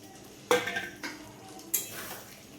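Boiled potatoes tumble into a pan of spiced masala with two clattering thuds of metal cookware, a sharp clink and scrape, then a second softer drop a moment later, close and fairly quiet with no talk.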